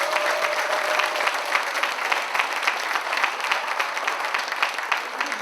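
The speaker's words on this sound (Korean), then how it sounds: "조승현 지혜자께 여러분 뜨거운 박수 한번 부탁드립니다" A crowd at a Kim Dae-jung Foundation Gimpo chapter founding ceremony in a cultural center hall gives warm applause, a dense, even roar of many hands clapping that stays steady and fairly loud throughout.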